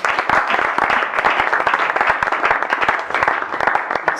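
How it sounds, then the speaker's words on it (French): An indoor audience at a talk on marriage and couples claps hard and continuously, a dense, close patter of many hands cheering the speakers for several seconds. "Est-ce qu'on peut bien acclamer les Seigneurs s'il vous plaît?"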